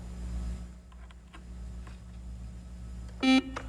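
A quiz show buzzer sounds once, a short electronic tone marking the end of the toss-up round, after a stretch of quiet room hum and faint tapping.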